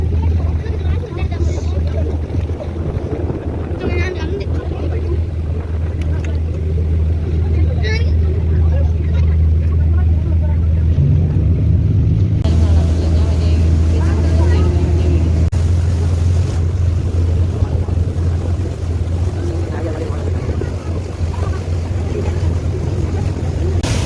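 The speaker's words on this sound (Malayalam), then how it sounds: "നമ്മുടെ ബോട്ട് മുന്നോട്ട് പോയിക്കൊണ്ടിരിക്കുകയാണ്" A tourist boat moving forward on Neyyar Dam reservoir, its engine droning steadily with water swishing along the hull, while people talk over it.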